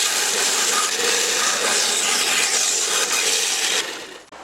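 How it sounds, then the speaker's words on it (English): A router on a circle jig cutting a circle in a black walnut board, a steady high-pitched whirring cut that holds evenly before dropping off abruptly near the end. "Now I'll use my little circle jig thingy to make a circle."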